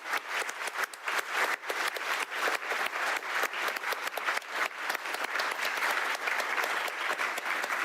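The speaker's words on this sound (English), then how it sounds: "let's clap for Rebecca" Audience applauding steadily after a cooking science demonstration, a dense, even patter of many hands at a strong, consistent level from start to finish.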